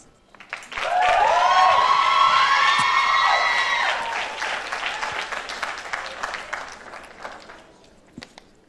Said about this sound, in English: You gotta give a round of applause for that